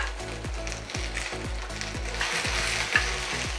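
Garlic sizzles loudly in a pan with shrimp in a spicy chili sauce. Steady frying hiss runs throughout, broken by repeated rhythmic scraping strokes about every half second, close up, with no talking.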